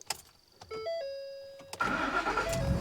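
A Dodge Adventurer 4x4 pickup truck engine cranks and catches after a few short dings, then settles into a steady, fairly loud idle close by.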